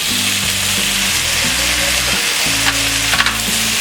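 Flat val papdi beans and tomatoes fry over a high flame, a loud continuous sizzle with a spoon stirring and scraping the pan in uneven strokes, close up and with no speech.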